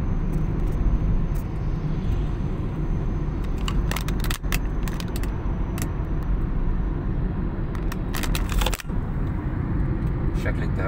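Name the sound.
airplane approaching near Cairo airport amid road traffic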